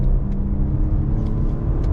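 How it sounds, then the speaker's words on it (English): A 2020 Lincoln Continental Reserve AWD with a twin-turbo V6 accelerates up a highway on-ramp, heard from inside as a steady low engine rumble and road hum. "This twin turbo V6 is a nice engine."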